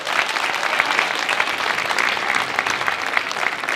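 A hall full of people at a high school band's winter concert claps steadily for the parent volunteers, a dense, even wash of applause sustained throughout without a break.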